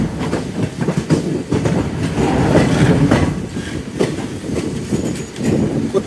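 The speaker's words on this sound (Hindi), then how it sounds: "सियालदह लाल गोला एक्सप्रेस हमें ओवरटेक करके आगे बढ़ रही है" The Sealdah Lalgola Express runs alongside and overtakes a moving train, producing a loud, close, continuous rumble with rhythmic clickety-clack of wheels over rail joints and occasional faint squeals.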